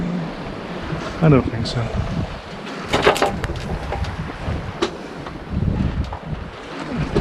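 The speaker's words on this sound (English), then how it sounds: "The wave height was quite high up." Sea waves wash against a sailboat on a passage between Scilly and St Ives, with choppy roughly two-metre swell. Heavy wind buffets the microphone throughout, and occasional splashes and knocks sound close by while someone speaks briefly.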